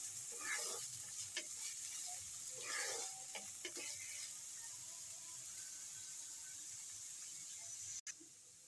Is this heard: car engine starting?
no